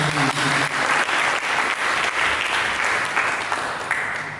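Church congregation applauding during a Sunday sermon, a full, continuous roar of many hands clapping with some low-pitched background hum, steady and then tapering slightly at the close.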